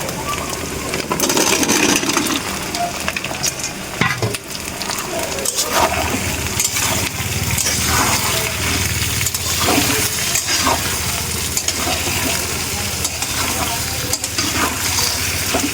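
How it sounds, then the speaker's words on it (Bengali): Loud, continuous sizzling of potatoes frying in a wok, with scraping stirs and clatter throughout, close up. "এবার আলুটা আমি দিয়ে দেবো কড়াইতে"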